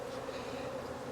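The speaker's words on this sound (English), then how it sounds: "I think a lot of these bees are robber bees, really." Robber bees swarm around a light, queenless nucleus hive box with a lifted honey super, giving a steady, close insect buzz that holds evenly throughout with no talking.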